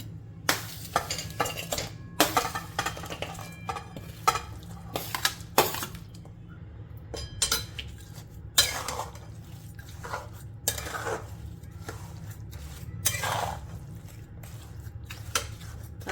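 Jaggery and grated raw mango mixture going into a kadhai, giving a run of metallic clanks, scrapes and clatters from utensils against the pan, sharp and close, spread irregularly over a low steady hum, with no talking.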